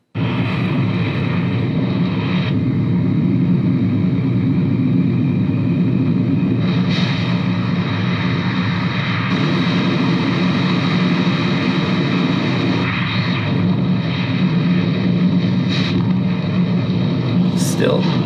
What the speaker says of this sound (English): Did he pull out his phone to film the plane crashing?